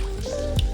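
Chicken broth mixed with tomato paste is poured into a simmering sauce, giving a brief close liquid splash and drip under a steady background hum.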